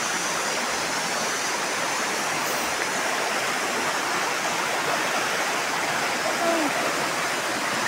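Clear freshwater rushes past as a stream current, a constant close broadband wash of flowing water with no breaks.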